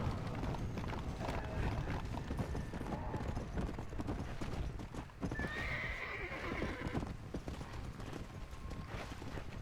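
Horse hooves clip-clop steadily in Red Dead Redemption 2, with a neigh and a whinny rising midway, set against busy game background sound.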